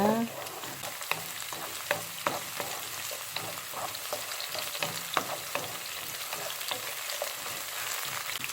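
Garlic sizzles in a pan with scallions as a spatula stirs it, a steady crackling fry broken by regular scraping strokes, fairly close and without voices.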